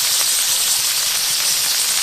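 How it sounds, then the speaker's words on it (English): Tomato sizzles in a hot pan, a loud, steady, close hiss that continues unbroken with no talking. "let's take a look at that sizzling"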